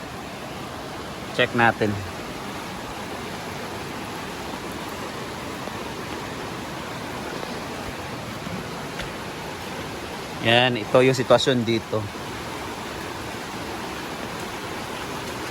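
A swollen river runs fast after a typhoon and flood in the Philippine countryside, near a bridge, roaring as a steady broadband rush throughout, while someone speaks briefly twice over it.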